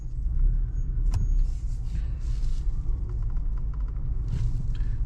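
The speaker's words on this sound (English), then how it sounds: "We're gonna take off slowly when we can and just kind of feel out how it shifts" A Chevrolet Silverado pickup with the 2.7L high-output turbo engine pulls away from a stop, heard from inside as a loud, steady low rumble of engine and road noise with faint clicks above it.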